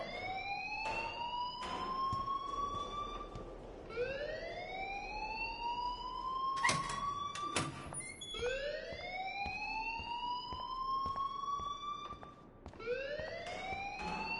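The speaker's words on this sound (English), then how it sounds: "please turn off that alarm since that's your job" An alarm blares inside a PS4 video game: a loud rising whoop tone repeats about every three to four seconds, steady and uninterrupted, with no talking.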